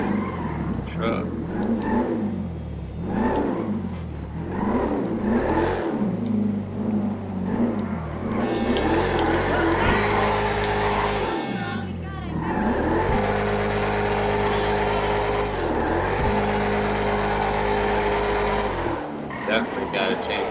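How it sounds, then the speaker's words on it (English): Truck engine in a donk racing video game revving hard and shifting through the gears, loud and continuous with rising and falling pitch steps, tire squeal mixed in. "Definitely gotta change the handle on this truck because this bitch is spinning through the gears."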